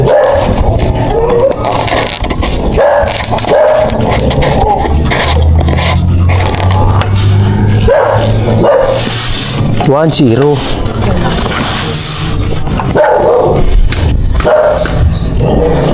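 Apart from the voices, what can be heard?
dog barking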